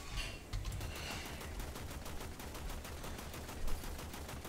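Rapid, evenly spaced automatic gunfire in the video game Warframe, a long burst of loud close shots rattling over game background sound, with no talking.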